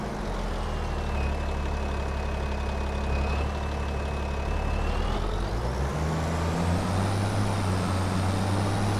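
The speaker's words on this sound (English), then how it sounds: "This combine is a naturally aspirated diesel straight 6." Naturally aspirated diesel straight-six engine of a combine harvester idling in Farming Simulator 25, a steady low drone with a whining tone that shifts upward partway through, continuous and close with no talking.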